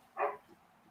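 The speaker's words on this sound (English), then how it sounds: "Hey, be quiet, dogs." A dog gives a single short bark, fairly faint and a little distant, rising out of quiet room tone and fading quickly.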